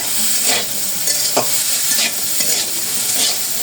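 Spice paste for noodles stir-fried in a pan, loud continuous sizzling with repeated spatula scrapes and clinks spaced through the clip, close up and without speech.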